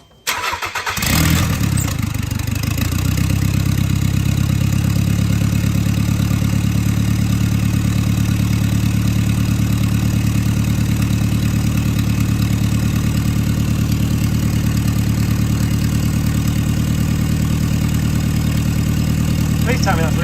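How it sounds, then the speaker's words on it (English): A Nissan Figaro car engine under repair cranks briefly, catches and starts, then settles into a steady, loud idle that continues unchanged to the end. "do you want to try and turn the engine over and see what happens?"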